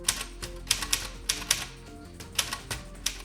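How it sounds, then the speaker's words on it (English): Typewriter keys strike in an irregular series of sharp, close clacks with brief pauses between clusters, used in an interactive art installation. "explore what's happening when they use the typewriter to type wherever they want"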